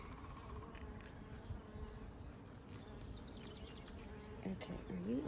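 Honey bees buzzing around an open beehive, a steady close drone with occasional louder passes near the end, while a person talks intermittently over it.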